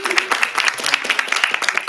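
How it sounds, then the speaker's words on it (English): Audience applause at a student candidate question time event, a steady patter of many hands clapping at moderate loudness for the full stretch, with no voices over it. "big round of applause for both of us"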